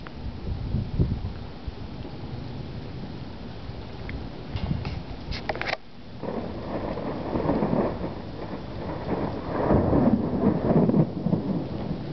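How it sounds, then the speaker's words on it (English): Steady rain falls through an early-morning thunderstorm with hail, broadband hiss running throughout with rumbling thunder swelling in the low end and a brief lull near the middle before the downpour picks up again. "Here comes the rain once more."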